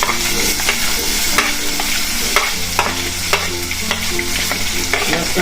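Green garlic dropped into hot oil with red chili, bay leaf, cinnamon, cloves and asafoetida, sizzling loudly and close while a spoon scrapes and stirs in repeated quick strokes, with no voices.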